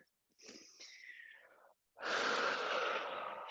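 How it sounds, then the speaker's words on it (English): Ujjayi paced breathing during yoga, two slow breaths close to the mic: a soft, hissing, throaty inhale and then a louder, rushing exhale after a short pause, with no talk. "Finding that Ujjayi, that paced breath."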